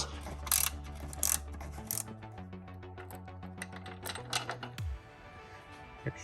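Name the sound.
Torx bit backing out Jeep Gladiator windshield screws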